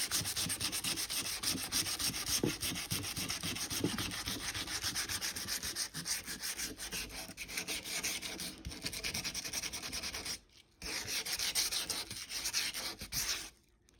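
Sandpaper scrapes steadily over wood in rapid back-and-forth strokes, close and continuous, with one brief pause before resuming.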